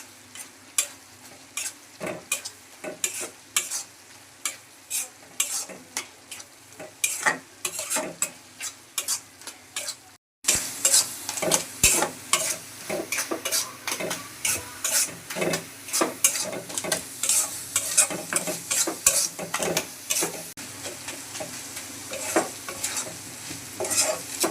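Dried chapa fish stirred and fried in a pan, a steady run of scraping stirs over a constant sizzle, close and fairly loud, briefly cut at one point then resuming stronger.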